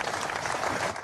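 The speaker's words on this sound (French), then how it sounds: "Les policiers sont sortis de garde à vue ce matin sous les applaudissements de leurs collègues venus les soutenir" Police officers' colleagues applaud outside the IGPN offices, a brief burst of dense crowd clapping heard close and steady, with no speech over it.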